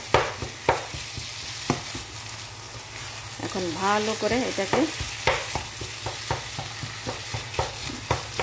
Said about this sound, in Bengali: মানে এমন ভাজা ভাজা করতে হবে যেন তেলগুলো বেরোয় আসে